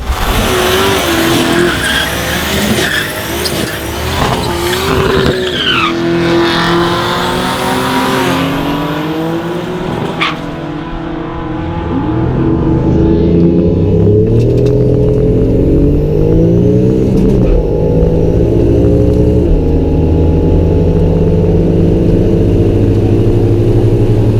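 Nissan Stagea with a compound turbo setup and a full 3.5-inch exhaust through a single muffler drives past loudly, engine note rising and falling with tyre squeal, steady and close throughout.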